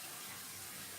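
Water runs from a tap while a hot cast iron pan is being cleaned, a brief soft, even gushing.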